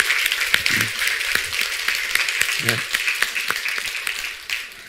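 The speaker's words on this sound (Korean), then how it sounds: "우리 한번 수고하셨습니다라는 박수를 한번 칩시다." Church congregation applauds during a Korean-language sermon, a steady wash of clapping running through the whole stretch while a voice speaks briefly over it.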